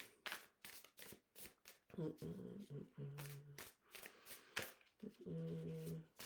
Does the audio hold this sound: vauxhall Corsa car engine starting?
no